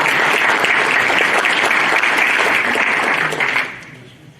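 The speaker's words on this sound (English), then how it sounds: "we need to give a small round of applause, big round of applause to the other universities" Applause from an audience at a university fundraiser for the Jesuit Martyrs, a dense, steady crowd of clapping hands that holds strong for about three and a half seconds, then tapers off quickly.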